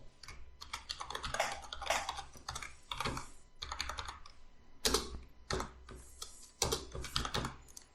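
A password is typed on a computer keyboard in quick bursts of close, crisp key clicks, with short pauses between runs and no voices.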